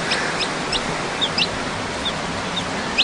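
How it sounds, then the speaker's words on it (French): Day-old chicks peep in short, high cheeps around their brooding mother hen, several scattered calls over a steady, noisy background. "voici le lendemain de leur naissance, les petits poussins avec leur mère."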